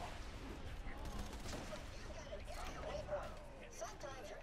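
Sustained gunfire from shooting an enemy in Borderlands 2, a dense rattle of overlapping shots layered with game noise and a faint background voice throughout.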